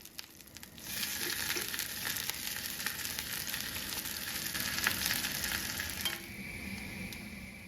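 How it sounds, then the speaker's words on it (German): Breaded chicken schnitzel sizzles in oil in a pan, a steady dense crackle and hiss that swells after the first second and holds close and continuous. "Vor dem Wenden gebe ich noch etwas Öl neben das Fleisch, damit auch die andere Seite der Panade anbraten kann"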